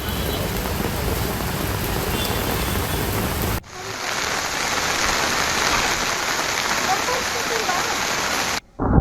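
Heavy rain pours down in torrents on a street where municipal workers clear a fallen tree with a JCB, a dense continuous hiss that shifts abruptly partway through, loud and steady without speech.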